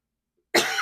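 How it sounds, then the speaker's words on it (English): A single short dry cough from a tickly throat bursts out close and clear after near silence. "dry cough a little bit with this tickly throat."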